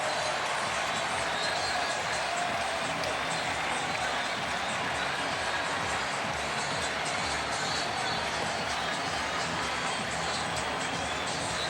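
Dense, steady roar of a large baseball stadium crowd cheering during a Phillies vs Mets game, a loud continuous wash of voices filling the whole clip with no pauses or distinct calls.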